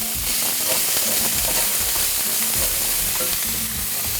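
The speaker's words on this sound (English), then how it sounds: "Oh yeah, got a good sizzle going there." Onions fry in hot oil in a pan, giving a loud, steady crackling sizzle with occasional stirring scrapes, continuous and close with no talk.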